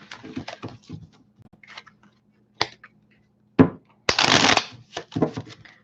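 Tarot cards are shuffled in several short, crisp riffling bursts separated by quiet gaps, with one longer, louder flurry near the end, close to the microphone with no talking.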